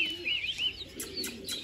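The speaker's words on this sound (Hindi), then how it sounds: "ओ किसी कबूतर आ गया" A pigeon coos close by, in soft, repeated throaty calls. Thin bird chirps flicker through the short stretch, and no one talks.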